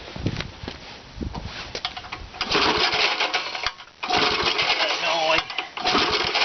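Small homemade engine fitted with a cork piston, running in rough bursts of rapid mechanical chatter that start and stop, close and fairly loud, with a person talking in between.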